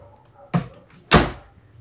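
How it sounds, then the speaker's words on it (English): An office or lab door is pushed shut, giving two solid thumps about half a second apart, the second louder, in a quiet room. "Close the door."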